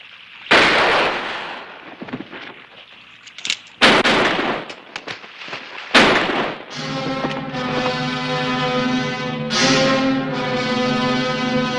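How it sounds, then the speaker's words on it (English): Gunfire in a Western TV drama, with a few loud, sharp shots spread across the scene, each cracking and echoing before dramatic orchestral music swells beneath them. "Shoot them, both of them."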